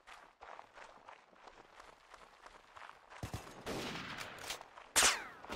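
Machine gun fire in the Mount & Blade: Warband Snow In the East mod starts as faint, distant rattling bursts, then grows into louder, closer volleys with a sharp, loud burst near the end.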